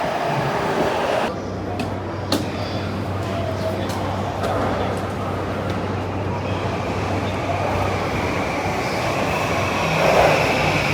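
A train at a Tokyo station platform rumbles with steady rail noise and clattering, a low hum running through the middle, while people talk nearby in the echoing station.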